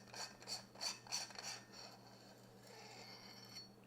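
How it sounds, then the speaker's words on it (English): The threaded back of a lightsaber grip is unscrewed, giving a quiet close-up run of four or five rhythmic rasping turns, then a fainter scraping as the part loosens. "So you just unscrew the back of the grip right here."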